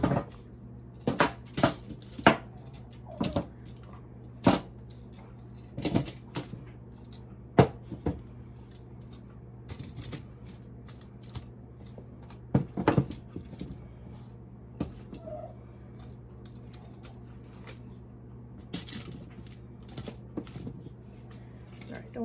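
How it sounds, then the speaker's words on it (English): Pieces of food set onto a metal sheet pan in a kitchen, scattered light clinks and taps at an irregular pace, close and fairly faint, with a steady low hum underneath. "here is our sheet pan. We're going to put all these on here."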